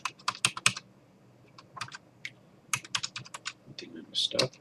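A password is typed on a computer keyboard, with close, quiet key clicks arriving in quick irregular clusters with brief pauses between them.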